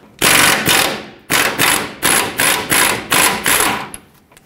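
A 21mm socket on a ratchet loosens a front lower control arm bolt on a 2007-2014 Chevrolet Silverado 2500 HD, giving a close, loud run of about eight sharp ratcheting strokes in a steady rhythm.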